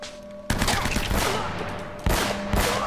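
Loud gunfire in the video game Uncharted: Drake's Fortune, heard as two sudden bursts of rapid, overlapping shots, the first dying down gradually before the second erupts just as strongly.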